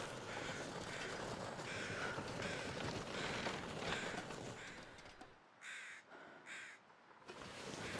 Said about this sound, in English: It's hard to hear them through the crowing.